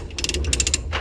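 Hand ratchet cranking to tighten a chain and winch equipment up into a trailer, a quick series of sharp metallic clicks in short rhythmic bursts, close and loud.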